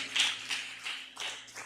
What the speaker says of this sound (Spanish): Alguien da un aplauso fuerte al Rey Jesucristo ahora